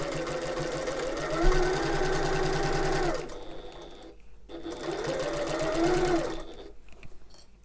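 A sewing machine stitches a tote bag seam in two steady runs with a short pause between them, the motor whirring loudly and evenly up close.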